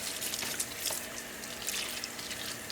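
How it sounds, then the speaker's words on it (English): Faint warm water runs and splashes softly while a taxidermy hide is rinsed, a quiet hissing trickle with scattered drips and small splashes throughout. "Do a warm water rinse on that."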